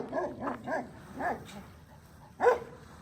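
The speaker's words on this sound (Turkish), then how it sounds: "çok güzel bir köpek maşallah" A dog barks a few times in short bursts, with a louder yelp near the end, fairly close in a quiet setting.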